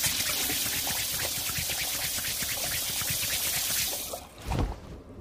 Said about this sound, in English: let me wash my hands and my phone.